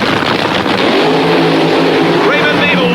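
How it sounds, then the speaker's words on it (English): 1984 funny car drag racers launch off the starting line with a loud, continuous roar of engines that climbs in pitch toward the end, with a voice faintly mixed in. "getting the car off the starting line and down that racetrack as quick as possible"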